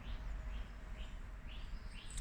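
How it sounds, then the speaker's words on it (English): Birds singing outdoors in spring by a narrowboat, faint repeated chirping phrases roughly every half second over a low rumbling background. "Listen to the birds."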